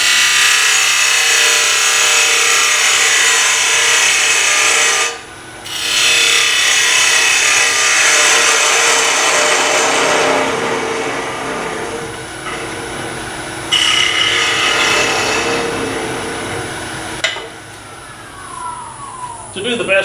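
Chatter tool cutting a decorative pattern into spinning wood on a lathe, a steady loud scraping whine that fills the whole stretch, with brief dips where the tool lifts off.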